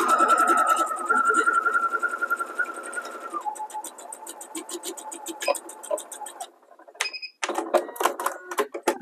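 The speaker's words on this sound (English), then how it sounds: "So we're going to sew all the way off the end of this" A home sewing machine stitches jelly roll fabric strips for a quilt top, its motor running in a rapid steady whir with short pauses and clicking stops near the end.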